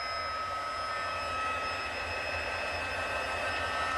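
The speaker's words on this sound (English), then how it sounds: "I'm going to grab my heat tool. I'm going to let that heat up just for a bit." A craft heat tool warming up, giving a constant, close, airy blower hiss with a faint steady whine, unchanging throughout.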